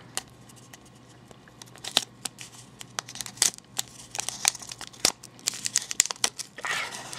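Strong tape, tougher than duct tape, being ripped by hand to open a hole, a series of sharp close tearing and crinkling bursts, scattered at first then coming faster, over a faint low hum.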